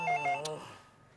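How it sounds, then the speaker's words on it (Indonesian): A short electronic phone tone sounds steadily with a few melodic pulses, then cuts off and fades into quiet room noise. "Kamu nggak dengar ada telepon?"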